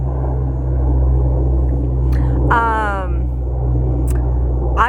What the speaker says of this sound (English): I hear a plane, but I do not see a plane.